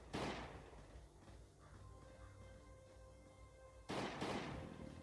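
Gunfire in the zombie survival video game Last Day on Earth: two loud broadband shots, one at the very start and another near the end, with a quieter hum of game ambience in between.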